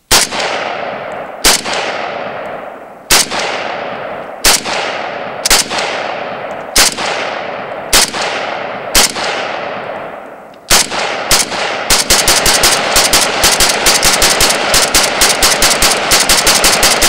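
A CIA GP1975 AK47 rifle fed from a 40-round magazine fires loud, sharp shots outdoors, first a string of evenly spaced single rounds about a second apart, then a rapid, dense burst of fire running to the end.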